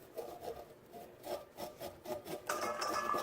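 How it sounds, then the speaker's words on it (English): A knife saws back and forth through the kernels of a fresh corn cob, giving close, rhythmic rasping strokes about twice a second, ending in a denser, harsher scrape. "I know it said not to do sawing motion, but of course I'm sawing"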